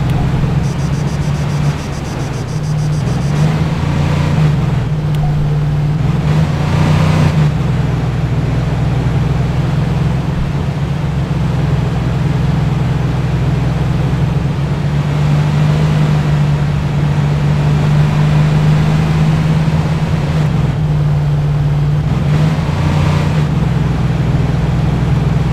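A car engine in the military game ArmA 3 drones steadily and loudly as the vehicle drives along a road, a low, continuous hum with slight swells in pitch that never lets up.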